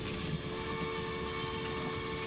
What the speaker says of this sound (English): We've got the train coming in.